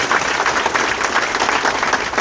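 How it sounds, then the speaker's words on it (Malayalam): An audience at a direct selling business meeting claps together, a dense, steady burst of applause that stays loud and even for about two seconds. "എല്ലാവരും ഒന്ന് കൈയടിച്ച് നോക്കട്ടെ."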